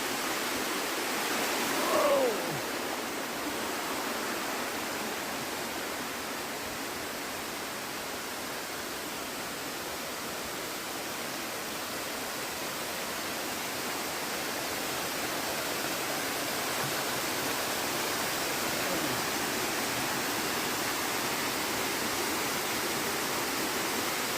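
Waterfall roaring as a steady, broad wash of rushing water, constant and unbroken from start to finish.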